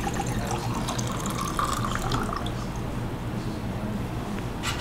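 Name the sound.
pouring brewed black tea with cordyceps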